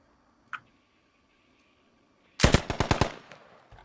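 In a first-person shooter video game, a single faint early shot is followed by a loud, close burst of about half a dozen rapid G3 rifle rounds, then a brief tail of ringing quiet.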